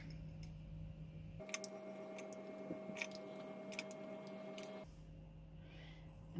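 Chia seeds being stirred with hot water in a blender beaker, a soft continuous scraping swirl punctuated by small clicks and taps of the utensil against the container, close and fairly quiet with no talking.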